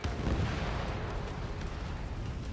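Combat flight game audio of a missile launch and blast: a dense, rumbling roar of fire and explosion, loud and close, sustained for a couple of seconds with no talk.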